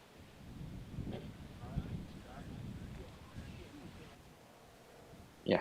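Gusty wind rumbles and buffets across an open disc golf course during a tournament round, a steady low roar with brief louder swells and a sharp burst near the end, with no voices.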